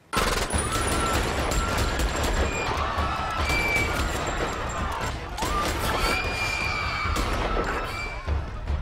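Rapid gunfire from blanks in a film scene from Collateral, a loud sustained barrage of overlapping shots with crashing impacts and some shattering throughout, no clear pauses.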